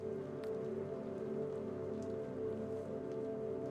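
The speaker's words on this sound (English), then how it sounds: "Hate the fucking rain." Heavy rain pours down in a steady, dense hiss, continuous and close with no pauses, in a stormy downpour strong enough to flood the streets.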